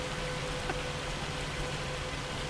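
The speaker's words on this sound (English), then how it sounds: "This is crazy weather. I didn't realize it would get this loud with hail." Hail storm weather in the Farming Simulator 25 video game, heard as dense, steady pattering of hailstones on surfaces, a continuous loud wash of noise with no pauses and no talking.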